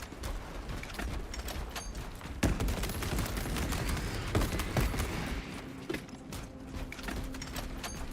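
Weapon reloading in the Space Marine video game, a run of mechanical clicks and metallic clacks over dense, steady game noise and distant gunfire, fairly quiet in the mix.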